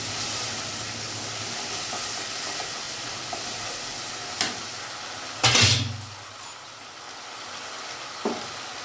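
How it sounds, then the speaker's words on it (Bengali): A splash of water hits hot spice masala frying in a pan, giving a sudden loud sizzle and hiss that fades over a couple of seconds, with lighter clinks before and after. "মশলাটা আমার পুড়ে না যায় সেজন্য সামান্য আমি এখানে জল অ্যাড করব।"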